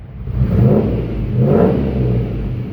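A 1996 Land Rover Defender engine runs after assembly, a loud, close, steady rumble that surges twice as it is revved.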